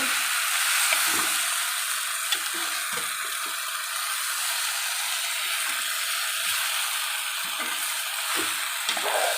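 A spoon stirs dried fish curry in a pan after the stove is switched off, giving soft repeated scraping and clicking strokes under a steady hissing, sizzle-like wash.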